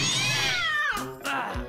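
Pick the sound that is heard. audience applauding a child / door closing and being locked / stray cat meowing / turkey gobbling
stray cat meowing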